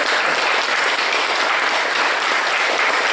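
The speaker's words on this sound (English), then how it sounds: "It's okay to clap. Someone is clapping." Audience applause fills the room during a children's message at a church service, loud and sustained with an even wash of hands throughout.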